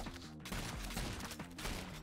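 Shotgun buckshot blasts in the video game Rounds, a rapid rattle of gunfire pops over game music, fairly quiet and continuous through the short stretch.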